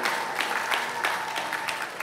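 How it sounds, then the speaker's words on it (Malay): Audience applause at the closing ceremony of an annual athletics meet, a steady patter of many hands clapping throughout, moderately loud and fairly close, with no speech over it. "Mari kita beri tepukan yang gemuruh kepada jawatan kuasa pengelola."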